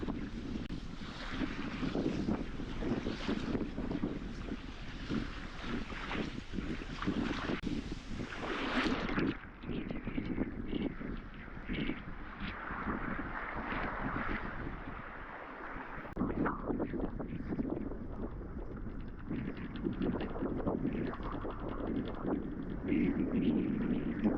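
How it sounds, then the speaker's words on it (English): A sailboat rides the waves on Corpus Christi Bay, with steady rushing water and heavy wind buffeting the microphone throughout, loud and continuous with no clear voices. "We're riding the waves rather than the waves hitting us on the side."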